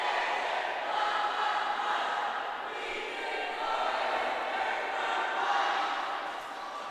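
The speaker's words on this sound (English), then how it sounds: "And we got the cheers." A high school swim team cheering at a meet, a crowd of voices shouting and chanting together in a reverberant natatorium, steady and continuous for several seconds.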